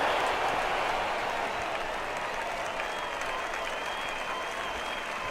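Steady crowd roar and applause fill a stadium in the baseball video game MLB The Show 18 as the count goes full, a dense sustained wash of cheering that stays loud throughout.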